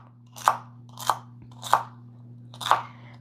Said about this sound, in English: I'm just chopping up 3 celery stalks, a couple of carrots, and an onion.